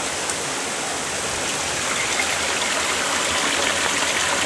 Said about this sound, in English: Water here is feeding down from a waterfall above.